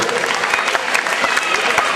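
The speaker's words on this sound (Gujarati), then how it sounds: "3 વિદ્યાર્થીઓને જોરદાર તાળીઓ વધારીએ" A school gathering in Surat breaks into sustained applause for three students, dense steady clapping from a large audience that fills the whole stretch, with crowd noise underneath.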